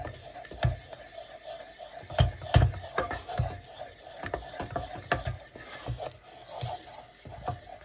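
A spoon scrapes and stirs a thickening cheese sauce in a pan over the heat, making irregular clicking, scraping strokes at a moderate close level with no talking.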